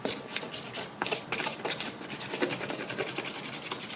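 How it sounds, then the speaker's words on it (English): Encaustic wax layers being scraped away by hand in quick, repeated rasping strokes, a close, steady rhythm of gritty scratches of about three per second, with no voices. "I can just keep scraping away, getting down to some other layers of wax"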